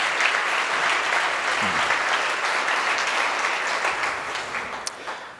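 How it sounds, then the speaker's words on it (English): Conference gala dinner audience applauding together, a dense, steady wash of many hands clapping at fairly loud level for the full length, with no talk over it. "give yourselves all a round of applause"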